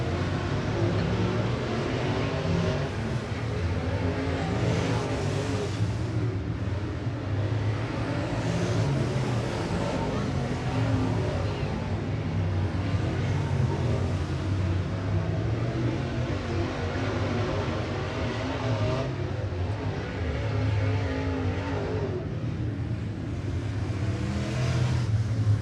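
604 crate late model race cars running hot laps and qualifying at 411 Motor Speedway: a steady, continuous roar of engines circling the track, loud and unbroken, without speech.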